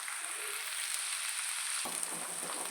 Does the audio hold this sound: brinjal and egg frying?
yes